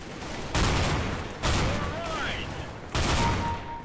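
Shotgun fire in the CS:GO video game: three loud blasts spaced about a second apart, each trailing into a ringing decay, with faint in-game sound effects between them.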